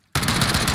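Gunfire in the video game Warzone erupts abruptly as a loud, rapid automatic burst that hammers on steadily without a break after a moment of near silence.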